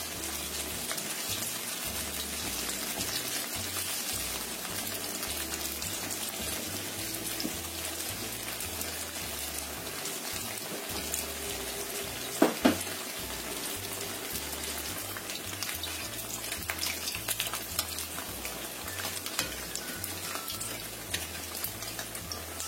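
Snacks frying in hot oil over medium-low heat give a steady, soft sizzle and bubbling that runs unbroken throughout, with one brief sharper crackle midway and no voices.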